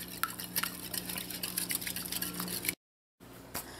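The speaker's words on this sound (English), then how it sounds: "Just gonna give this a mix." Eggnog mixture is stirred in a bowl, a close series of soft scraping and clinking strokes for under three seconds, then a short silence and a few more faint movements.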